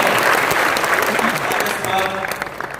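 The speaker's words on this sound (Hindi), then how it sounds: "बिहार वालों को ताली बजाइए भैया।" An audience bursts into loud, dense applause at a company gathering in Bhilwara, a continuous wash of many hands clapping close by that thins slightly toward the end.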